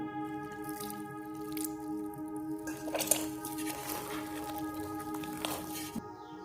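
Water poured into sweet bonda batter and mixed, soft wet squishing and faint clinks of a utensil against a bowl, quiet and close, with no talking.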